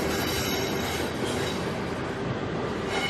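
A regional train runs along rails between West Berlin and West German cities, a continuous rumble with a wheel hum and a high squeal, steady and close throughout.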